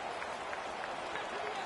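Stadium crowd at a Stallions football game roaring and cheering after a punt return, a steady, dense wash of cheers and applause with no break throughout.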